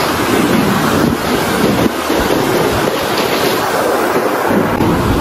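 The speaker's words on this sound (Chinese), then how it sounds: "你看这个浪很大。" Big ocean waves breaking on a rocky shore at an eroded-coastline geopark on Meizhou Island, a loud, continuous roar of surf close by with heavy wind buffeting the microphone.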